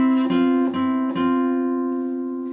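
A guitar double-stop phrase from part 1 at full tempo: three quick picked attacks over a continuously ringing tone that then sustains and fades, close and solo.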